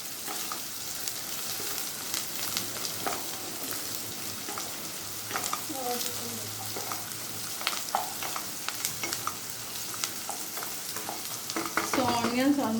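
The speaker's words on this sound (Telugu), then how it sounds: "ఆనియన్స్ ఆల్మోస్ట్ ఫ్రై అయిపోయాయి" Onions fry in a pan for mutton keema biryani, a steady soft sizzle with occasional stirring scrapes and clinks, close and moderately quiet, no voices.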